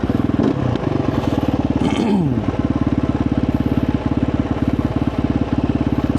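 An off-road motorcycle with a 51-tooth rear sprocket runs in the desert, its engine chugging in a steady rapid pulse that stays loud and close throughout, with a brief scraping clatter and a rising rev early on.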